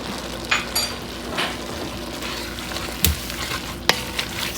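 Herbs and thyme stirred in a hot pan, a soft steady sizzle with a few light scrapes and clinks of a utensil against the pan.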